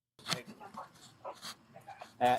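A dog whimpers and pants in short bursts amid a tense police confrontation, with loud voices of several people talking and shouting over it nearby.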